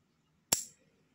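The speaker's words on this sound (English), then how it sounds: "So since it's cut, I can press the trigger now." A single sharp crack from a home-made PCP air rifle, close and loud, with a brief ringing decay in an otherwise quiet room.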